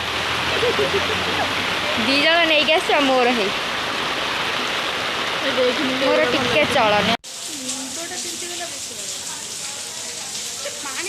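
Heavy rain falling outdoors as a dense, steady hiss that fills the whole stretch, with voices talking over it and a brief cut partway through.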